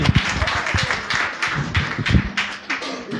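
Workshop audience in Chinsurah claps for Durga-da, a burst of uneven close hand claps and taps under a steady room murmur, fading slightly toward the end.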